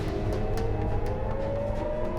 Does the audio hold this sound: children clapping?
no